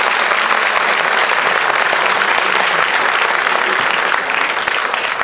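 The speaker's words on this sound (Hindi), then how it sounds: "अब तो तालियां बनती हैं जरूर।" A large audience claps steadily and loudly at a book launch, sustained dense applause filling the whole stretch without a pause.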